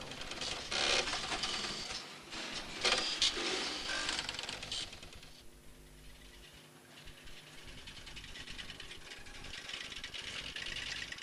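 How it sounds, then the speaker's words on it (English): Rows of electromechanical switches in an old telephone exchange clatter and click continuously, a dense mechanical rattle with busier bursts early on, heard close and alone. "Rows and rows of switches clicking away to find the number you dialed."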